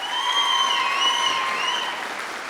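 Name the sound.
applause from the convocation audience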